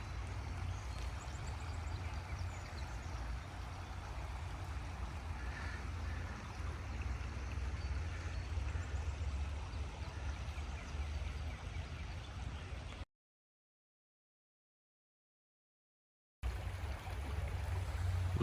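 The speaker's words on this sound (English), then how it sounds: "here this water sounds flowing through" Water flows past a small island with rocks and shells in an American forest, a soft steady rushing murmur at low level, briefly cutting out before resuming.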